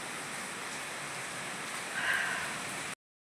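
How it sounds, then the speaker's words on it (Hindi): Heavy rain pouring down in a steady, dense hiss of broadband wash, fairly close and even, briefly swelling before cutting out abruptly near the end. "पता नहीं कहाँ से इतनी बारिश हो गई है"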